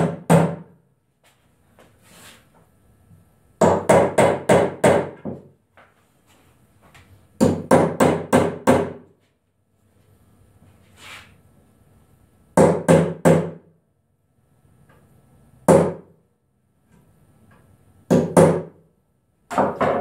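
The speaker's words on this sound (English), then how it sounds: "take a hammer and a set. Go ahead and tap them on down so they're just below flush" A hammer taps pins into wood with a nail set in short clustered bursts of quick strikes, separated by pauses, fairly close and sharp.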